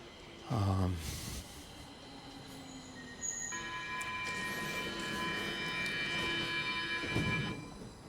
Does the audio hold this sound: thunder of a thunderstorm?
no